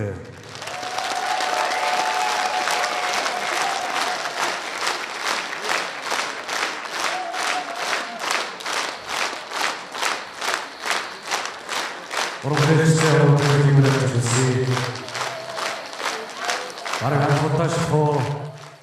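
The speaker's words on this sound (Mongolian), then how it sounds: "энэ хүн бүжгийг ийм сайхан халуун алга ташаалтаар бараг бүжиг явах дунд нь алга ташаалтыг анхудаа сонслоо." Warm audience applause for a folk dance ensemble at an anniversary concert, dense rhythmic clapping that swells and pulses steadily, with music and voices rising over it in the later part.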